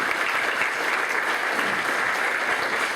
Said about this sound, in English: please give a big round of applause for Dr. Rennie.